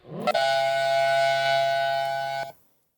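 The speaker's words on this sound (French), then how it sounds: "Est-ce que je peux doubler la sirène pour qu'elle soit un peu plus identifiable?" A Silent Hill style siren sound effect sounds alone: one loud, steady, droning wail with a quick rise at the start, held for about two seconds, then cut off sharply.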